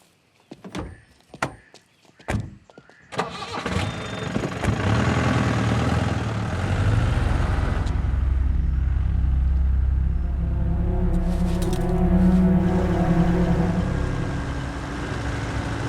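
A car engine turns over after a few sharp clicks, then settles into a steady, rumbling run as the vehicle pulls away and keeps driving, loud and close, with no talking.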